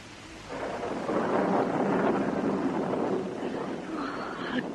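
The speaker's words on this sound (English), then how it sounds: "How dark it is. There's a storm coming up." Thunder from an approaching storm rolls in a radio drama: a heavy, close rumble that swells and holds for several seconds, with a faint rain-like hiss and a brief crackle near the end.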